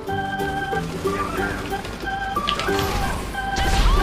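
A helicopter crashes and breaks apart in a GTA video game: a sequence of sharp smashing impacts amid game noise and tonal effects, fairly quiet overall.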